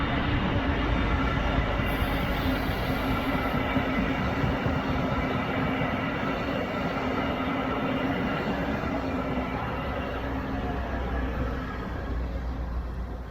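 A Brightline qualification train rolls slowly along the track on the heels of an FEC train, giving a steady, loud rumble of wheels and cars that holds from start to finish with no talk.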